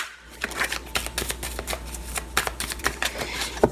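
A deck of tarot cards being shuffled by hand close up, a rapid run of crisp riffling flutters and soft slaps carrying on steadily throughout with no voice over it.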